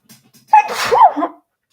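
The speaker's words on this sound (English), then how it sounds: "Okay, I'm about to sneeze and I apologize." A single loud, close human sneeze from a woman, a sharp burst preceded by a brief faint inhale, standing alone without speech.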